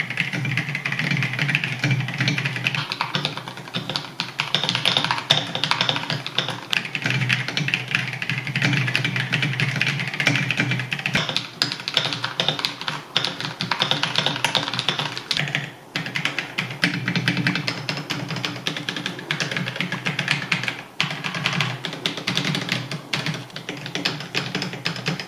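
Steady, fast typing on an Akko 5075B budget mechanical keyboard, dense clacking keystrokes continuing without pause at close range, with no talking.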